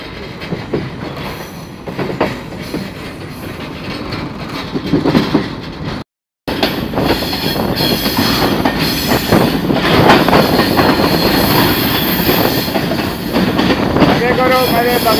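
A freight train rolls along the main line near Ghaggar station toward Karachi, a loud, continuous rumble of rolling wagons with clattering wheels and squeals. A brief dropout breaks it midway, and voices talk over it.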